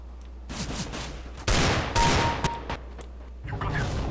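Video game gunfire in a first-person shooter: rapid bursts of shots and loud blasts in quick succession, close and dense, over a steady low game background hum.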